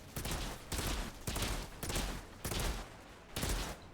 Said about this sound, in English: I also changed up our sniper rifle because this one does more damage. But it seems worse, actually, because it's an auto sniper.